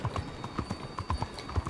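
Horse hooves clip-clop steadily and close by in the video game Red Dead Redemption 2, a brisk, even rhythm of repeated hoofbeats with no talking.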